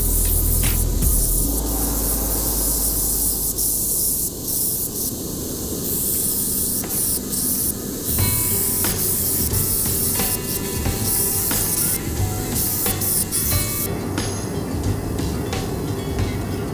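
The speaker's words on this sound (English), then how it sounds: "This handle is like grinding concrete. Those are ceramic belts I'm using" Harsh abrasive rasping as a mammoth molar knife handle is ground on ceramic belts, loud and sustained with bursts of hissing, scraping contact as the piece is pressed and lifted against the running belt.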